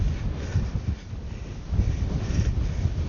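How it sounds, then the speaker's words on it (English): Strong wind buffets a microphone while wild camping in wet, cold UK winter weather, producing a low, rumbling roar that surges and eases with the gusts, with no voices. "Whew, that wind."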